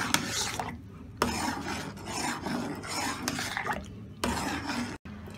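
A spoon scrapes and rasps rapidly around a pot of chicken soup, brisk rhythmic rubbing strokes in close, repeated bursts with short pauses between them.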